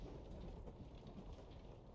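A Minecraft thunderstorm fills the scene with a faint, steady wash of rain, a low continuous hiss with soft rumbling and no voices.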